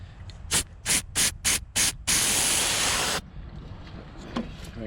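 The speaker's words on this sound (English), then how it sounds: "I'm going to spray this off with some" Several short hissing bursts from a spray bottle applying cleaner to a BMW part, followed by one longer continuous spray, close and loud, with faint ambient noise after.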